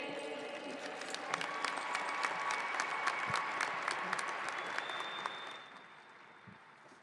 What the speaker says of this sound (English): I want you guys to applaud yourselves